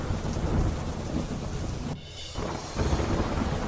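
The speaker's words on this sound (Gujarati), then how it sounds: "ભારે પવન સાથે અનેક વિસ્તારોમાં ધોધમાર વરસાદ પડ્યો" A heavy monsoon downpour with strong wind in Panchmahal district, Gujarat, roars as a loud, continuous wash of rain with gusty buffeting, briefly dipping before surging again.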